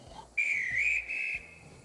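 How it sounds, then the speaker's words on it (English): A shrill, steady whistle blast held for about a second, starting abruptly and tailing off, with low rumbling background noise. "With the guard's whistle blowing, Duck and the truck smoothly set off"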